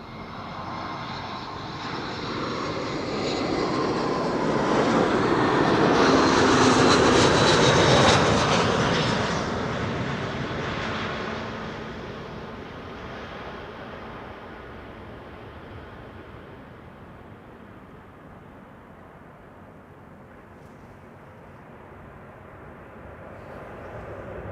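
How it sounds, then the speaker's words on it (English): Vueling Airbus A320 jet arriving from Valencia at Amsterdam Schiphol, swelling from a distant whine to a loud, close roar around the middle as it passes, then fading to a steady background rumble. "This is Vueling, Hans' favorite, once again arriving from Valencia. This is flight 8353 and A320"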